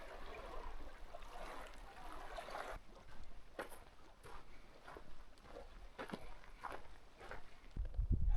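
Footsteps cross a beaver dam over Chipmunk Creek near the southeast arm of Yellowstone Lake, a series of soft splashy steps over trickling water, quiet and close, with a heavier thump at the end.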